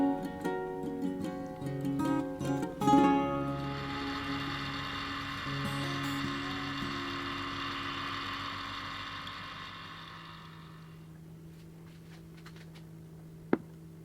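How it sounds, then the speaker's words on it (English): After some clattering, a vacuum chamber pump starts and runs with a steady buzzing drone for several seconds, then winds down, followed by a single sharp click. "I'm going to put this container inside my vacuum chamber."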